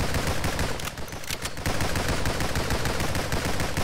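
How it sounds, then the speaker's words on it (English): Assault rifle fire in the shooter game NIMRODS, a dense, loud stream of rapid automatic shots that runs almost unbroken for several seconds with only a brief dip partway through. "I'm gonna go ahead and take the assault rifle"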